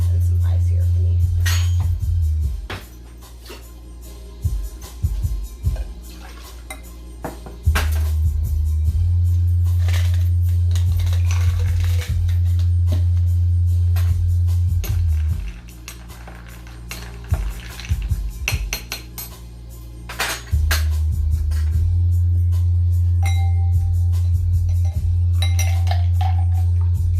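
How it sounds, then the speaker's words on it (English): A drink being stirred with ice: repeated clinks and rattles of ice against glass and a spoon, close up, over a loud low steady hum that cuts in and out, with brief talk. "I'm gonna stir this in some ice here for me."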